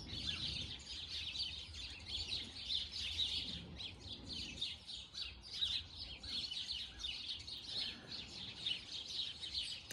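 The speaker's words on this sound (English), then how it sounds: "I don't know if you can hear me with these birds." Birds chirp busily and continuously, overlapping high tweets from several birds at moderate distance, with a faint background hum.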